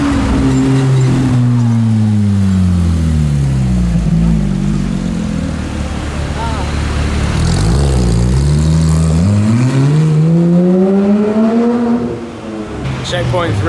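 An Audi RS6 engine roars very loudly at a corner by an F1 tunnel entrance, climbing and dropping through several close, drawn-out revs with a brief dip near the end.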